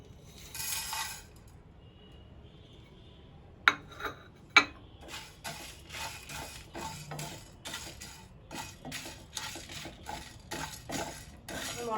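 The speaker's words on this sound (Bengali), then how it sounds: "এবার মশলাটাকে হালকা ভেজে নিচ্ছি।" Whole coriander, cumin, cinnamon, cardamom and cloves are dry-roasted in a pan. A quiet stretch gives way to two sharp metallic knocks, then steady scraping and clinking stirring strokes against the pan, with no talk.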